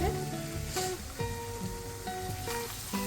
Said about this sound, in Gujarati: ડુંગળીને આપણે તેલમાં અહીંયા સારી રીતે મિક્સ કરી લેશું.